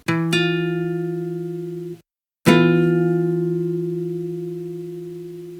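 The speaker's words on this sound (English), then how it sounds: "the most dissonant interval in music is the so-called flat 9" Two sustained, clashing tones struck together twice, ringing and slowly decaying; a harsh dissonant flat-nine interval, with a brief silence between strikes.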